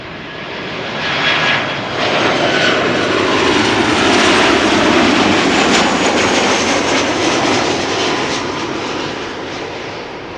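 Transavia Boeing 737-800 airliner arriving at Amsterdam Schiphol, its engine roar swelling close and loud, then holding steady as it passes and fading slightly near the end, with no voices.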